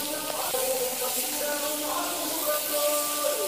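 Chopped curry chillies hit hot oil in a frying pan, giving a steady, close hiss and crackle that runs the whole time, with faint clinks and stirring mixed in.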